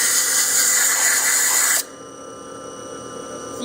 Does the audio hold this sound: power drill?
yes